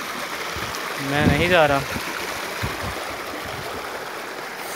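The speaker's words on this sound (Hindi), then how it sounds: "ये ऊपर से भी वाटरफॉल आ रही है" A stream runs below a waterfall in Islamabad, its steady wash filling the background under a brief spoken voice.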